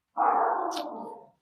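Several dogs indoors bark at someone walking dogs outside, a single loud, sustained burst of barking close by that fades out after about a second, with no talk over it.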